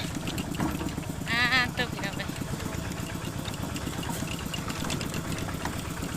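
A motorbike engine runs steadily while being ridden to the fields, a close, chugging mid-pitched drone with a rapid pulsing beat, and someone talks over it throughout.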